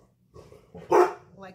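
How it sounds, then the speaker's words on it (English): A dog being minded at someone's sister's house gives one sharp, fairly close bark amid quieter yips and low whimpering, while a person speaks softly. "which is why the dogs are barking too"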